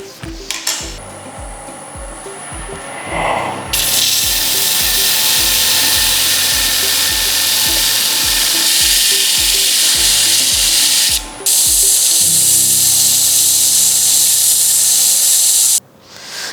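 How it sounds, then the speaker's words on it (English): A sanding disc on a wood lathe grinds down the top of a turned wooden carving mallet, a loud, steady abrasive hiss that cuts in after a few seconds of rhythmic lathe thumping and briefly drops out before resuming. "you can put a sanding disc into the lathe and just sand the top of this down"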